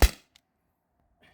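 A modded T4E HDP50 less-lethal pistol fires a single sharp, close crack that dies away quickly into near silence, followed by a faint click and a soft rustle.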